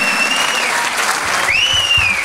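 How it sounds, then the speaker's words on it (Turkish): Big applause from a concert audience for a Turkish classical music choir, dense steady clapping filling the hall with a couple of whistles rising over it. "Şöyle benim güzel aileme kocaman alkışlar istiyorum."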